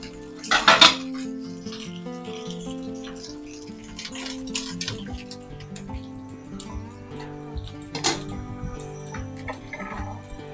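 A lid set over a pan of chitol fish cooking in a little oil in a village home kitchen: a sharp close metallic clank, light clinks and rattles, then another clatter later.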